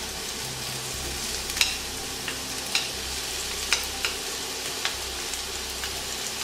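Onions frying in a pan for Japanese lamb curry give a steady, soft sizzle, with occasional sharp ticks and clicks as the pieces are stirred.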